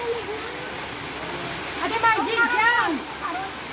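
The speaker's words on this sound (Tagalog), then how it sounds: "Adonis Falls is nice falls in Cyprus." Adonis Falls, a waterfall in Cyprus, gives a steady, fairly loud rushing wash of water that runs the whole time while people chat over it.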